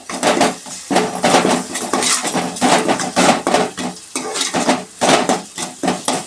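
Ginger paste is stirred into softened onions in a pot with a spoon that scrapes and clatters against the metal in loud repeated strokes and a brisk rhythm, alone without speech.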